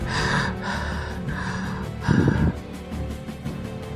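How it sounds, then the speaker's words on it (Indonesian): Heavy, rhythmic panting breaths go on throughout, loud and close, with one sharper gasp in the middle. "Napas-napas terengah berat terdengar jelas."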